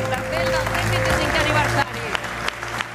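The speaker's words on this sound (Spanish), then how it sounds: "Un aplaudimiento." Applause from an audience, steady crowd clapping filling the space at moderate loudness, with a voice talking over it.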